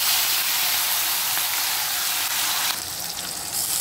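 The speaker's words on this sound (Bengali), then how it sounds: "তেল গরম হয়ে গেছে, আমি একটু কালো জিরে ফোড়ন দিয়ে দিলাম আর দুটো কাঁচা লঙ্কা।" Nigella seeds and green chillies tempering in hot oil for a Bengali fish curry, a steady loud sizzle and hiss close by, with a brief crackling flare near the end.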